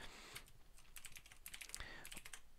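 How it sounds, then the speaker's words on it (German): Typing on a computer keyboard to manage windows in the i3 tiling window manager: quick, quiet, irregular clicks and keystroke taps close up, with no talk. "dass man sehr effizient mit, dem, mit der Tastatur seine Fenster verwalten kann"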